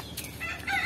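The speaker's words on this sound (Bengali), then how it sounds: "দেখি তো মোরগটা ডাকছে।" A rooster crows once in a village, a short, fairly faint call from some distance with quiet outdoor air around it.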